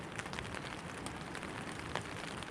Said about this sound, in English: The rain always sounds heavier under a tarp or in a tent